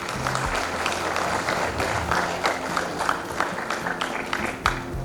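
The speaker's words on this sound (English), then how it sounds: "I think we should appreciate them with a big round of applause." Audience applause for a student band at a school English Week celebration, a sustained burst of many hands clapping that fills the whole stretch, close and fairly loud.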